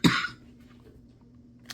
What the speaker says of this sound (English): Here comes the cough.